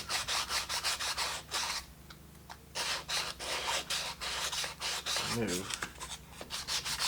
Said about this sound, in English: I'm going to sand around the edges.